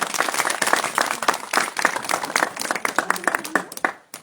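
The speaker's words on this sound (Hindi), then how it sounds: "से ताली बजाओ भाई" Audience applause at a children's Republic Day celebration, greeting senior-category declamation prize winner Sujal: a dense burst of many hands clapping for about four seconds, with voices mixed in, before it tapers off.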